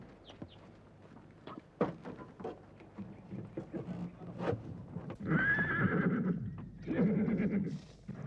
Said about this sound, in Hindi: घोड़े का पेट भर गया